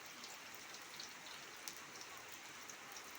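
Steady rain falls and patters on a surface, a soft continuous hiss with scattered drop ticks, even and unbroken, with no voices.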